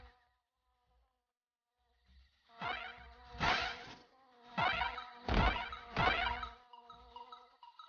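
Bee buzzing in the DuckTales Remastered video game, rising into several loud, close buzzing bursts over a game soundtrack with a faint opening.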